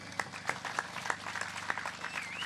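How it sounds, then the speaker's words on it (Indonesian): Audience at a religious gathering clapping, scattered sharp individual claps over a low steady hum, with a thin tone sliding upward near the end. "Tepuk tangan"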